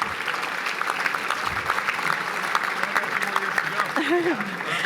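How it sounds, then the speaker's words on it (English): Steady applause fills the room at the City of Newport Beach 41st Annual Mayors Dinner, a sustained crowd clapping evenly throughout with a brief voice near the end. "That deserves a round of applause, right?"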